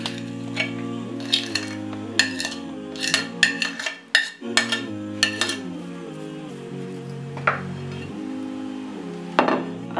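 A spoon mixes ground lentils and chicken in a bowl for shami kebabs, giving scattered clinks and scrapes against the dish under soft, steady background music.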